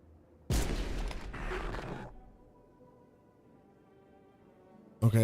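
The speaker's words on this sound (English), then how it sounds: "Dude, I'm shooting you." A burst of video game gunfire, rapid shots packed close together for about a second and a half, then a quiet stretch with a low hum and another sharp blast at the very end.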